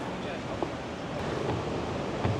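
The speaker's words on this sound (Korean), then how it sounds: "파도 소리는 되게 좋다" Sea waves at Hajodae on the Korean coast, a broad steady wash of surf with wind noise, moderately loud and continuous, a voice faintly present.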